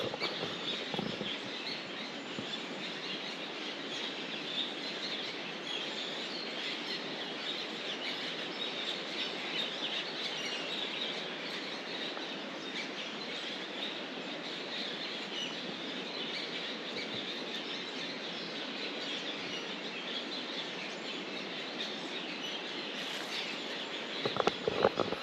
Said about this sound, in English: If you can carefully observe the sounds of nature, the birds chirping.